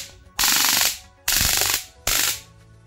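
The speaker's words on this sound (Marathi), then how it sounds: "ये एक इलेक्ट्रिक गन है" A homemade battery-powered high-voltage electric safety gun discharges in three loud, harsh crackling bursts, each about half a second long with brief gaps between, close and without talk.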